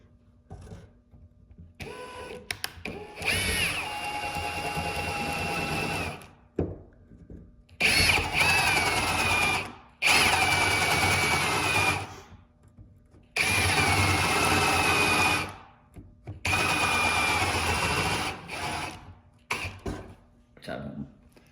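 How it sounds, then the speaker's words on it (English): A power drill smooths out a chipped, uneven doorknob hole in a hollow interior door, running in several sustained bursts of a few seconds each with short pauses between, loud and close. "So I'm gonna have to drill a little bit into there because it's not flush."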